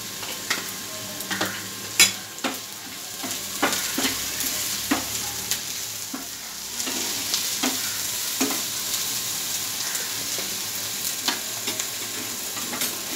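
A pan sizzles steadily as corn bhurjee fries and asafoetida goes in, with sharp clinks and scrapes of a spoon stirring at irregular intervals over the constant hiss.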